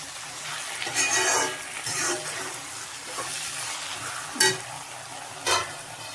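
Sliced onions frying in a pan for a home-style chicken curry, a steady soft sizzle with several louder stirring scrapes and clatters, close by, no talking.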